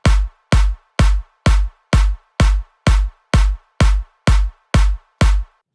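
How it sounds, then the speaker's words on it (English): Kick drum samples repeat in a steady pattern, twelve punchy booming hits about half a second apart with sharp attacks and short decays. Each hit stands alone with no talk. "it sounds like this with your kick drum, and it sounds out of time"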